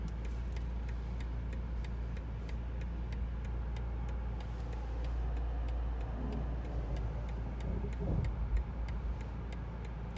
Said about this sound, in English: the car will begin to park itself